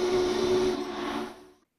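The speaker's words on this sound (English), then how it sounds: "Pull the cord to blow the whistle is just something else" Steam whistle blast from the 611 steam locomotive, a Norfolk & Western engine over 70 years old, blown by pulling a cord: a loud sustained hissing tone that holds, then trails off and stops after about a second and a half.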